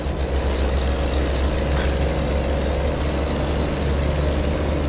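A new Renault D model truck engine idles steadily with a deep, constant rumble and a faint whine, close and alone.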